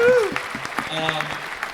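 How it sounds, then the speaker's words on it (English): An audience applauds at a comedy show, scattered crisp claps under a voice at first, then a moderate steady patter with a sustained tone running through. "Round of applause. Let's see how everybody can another round."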